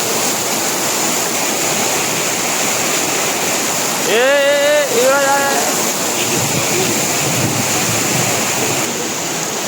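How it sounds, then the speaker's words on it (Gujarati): Heavy monsoon rain pours down in a steady, dense roar that fills the whole clip, with a brief high-pitched vocal sound rising above it around the middle. "ફૂલ એટલે ફૂલ વરસાદ ચાલુ થઈ ગયો છે."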